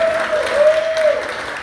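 Short burst of audience applause at a radio industry conference in Chicago, dense clapping with a faint steady tone running beneath.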